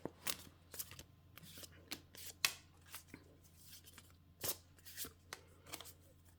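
Tarot cards shuffled by hand in a series of crisp riffling bursts and soft slaps, irregular and close, with no talking.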